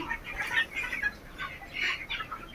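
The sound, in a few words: chicks and hens clucking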